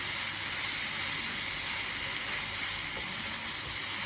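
Spicy lamb mince browning in a pan gives a steady, close, loud sizzle with a constant hiss and no pauses, and no talking.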